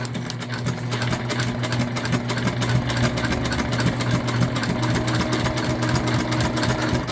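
Close and loud, a sewing machine hums steadily as it stitches a tote bag seam at a quarter-inch allowance, the fast needle rhythm unbroken for several seconds with a constant motor drone underneath.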